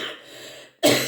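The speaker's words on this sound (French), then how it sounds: "j'ai la toux là qui m'empêche de respirer correctement" A sick man coughs once, sharply and close up, after a brief quiet pause, with a rough throat-clearing quality.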